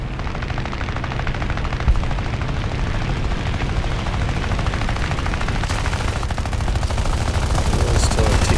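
Rapid, continuous machine-gun fire from a C.R.714 fighter plane in the War Thunder air arcade game, a loud dense rattle layered over a constant engine roar that holds throughout.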